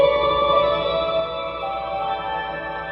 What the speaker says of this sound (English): I have one like really spacey reverb.